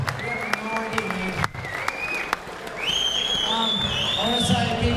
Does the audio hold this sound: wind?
no